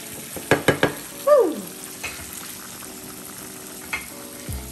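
Shrimp sauté in a pan with a low, steady sizzle, broken early by a few sharp utensil clacks and a brief squeak, with no talking.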